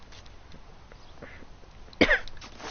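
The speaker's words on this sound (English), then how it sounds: "Coughing." A single short, harsh cough bursts out near the end, loud and close against a quiet, faintly noisy background.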